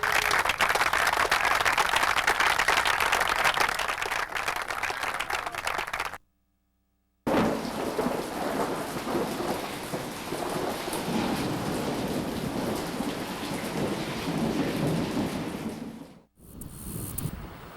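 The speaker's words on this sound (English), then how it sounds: "The storm is over in the sky" Heavy thunderstorm with dense, loud rain and rolling thunder, the downpour roaring continuously, broken by a brief silent gap and then resuming at a steady intensity.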